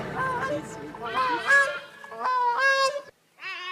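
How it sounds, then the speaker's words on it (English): Gray-crowned crane, Uganda's national bird, on a lake island, giving a series of loud honking, goose-like calls in rising bursts, close and clear. "This is a song of the gray-crowned crane, the national bird of Uganda."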